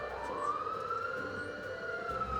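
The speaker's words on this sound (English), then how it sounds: "Okay, we got the ambulance." An ambulance siren wails, sweeping slowly up in pitch, steady and moderately distant, over low traffic rumble.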